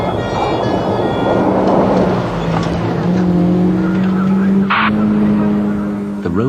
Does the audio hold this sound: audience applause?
no